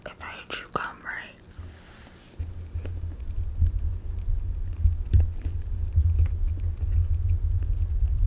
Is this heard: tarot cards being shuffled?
no